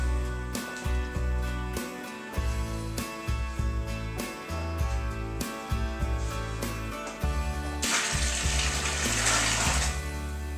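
Water pours into a home brew fermenter while making a Thomas Coopers Irish Stout, a steady splashing stream that comes in repeated bursts and swells into a louder, brighter gush near the end.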